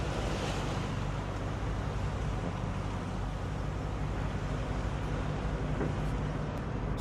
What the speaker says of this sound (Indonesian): Cuacanya ini cuaca musim angin barat. Soalnya kebetulan saat ini lagi hujan.